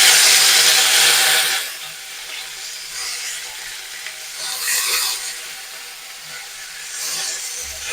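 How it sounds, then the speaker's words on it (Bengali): Drumstick flowers dropped into hot oil with dried chilli and cumin, then stirred. A loud hiss at first fades to a softer sizzle, with scraping stirs that come and go, all close up. "এবার আমি এই তেলের মধ্যে দিয়ে দেবো সজনে ফুল।"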